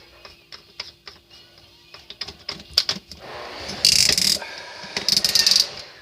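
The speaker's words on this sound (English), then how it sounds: "Center it in your chuck." Thin wire for a single-core Clapton coil being centred and clamped in a drill chuck: a series of small metallic clicks and ratcheting taps, with brief louder bursts of handling noise near the end.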